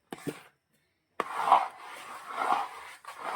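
Thick jackfruit halwa (chakka varatti) is stirred in a pan, giving close, steady scraping and rubbing strokes that pause briefly, then continue without break.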